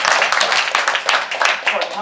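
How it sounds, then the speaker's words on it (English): Brief applause at a poetry reading, a small audience clapping close by in a quick, uneven patter lasting a couple of seconds. "let's start with a round of applause"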